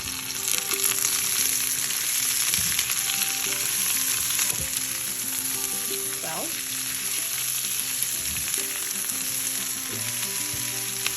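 Chopped onions fry with browned bitter gourd (karaila) for a lamb dish, producing a strong, continuous sizzle with occasional stirring clinks throughout.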